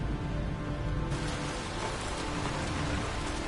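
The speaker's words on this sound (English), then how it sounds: "damn, this rain's loud." Loud, steady rain in the video game Heavy Rain, a dense unbroken wash of drops pouring down that swells slightly partway through, with no talking.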